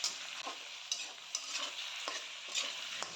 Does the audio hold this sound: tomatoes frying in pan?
yes